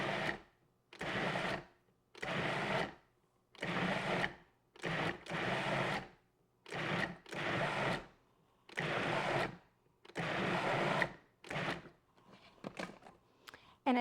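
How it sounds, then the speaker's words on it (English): A food processor pulsing tomatoes for salsa, about a dozen short whirring bursts separated by brief silences, the last few bursts shorter and quieter, with no talk. "now we're going to pulse this a little bit, basically just to mix it and to chop the tomatoes a little finer"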